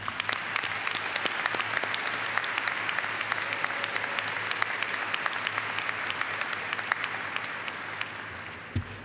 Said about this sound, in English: Please join me in giving another round of applause to all our awardees.